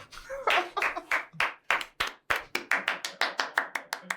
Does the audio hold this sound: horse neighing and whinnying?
no